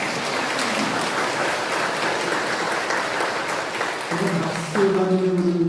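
Church congregation applauding during Sunday Mass, a dense sustained clapping that fills the space, with a faint voice or tone emerging near the end.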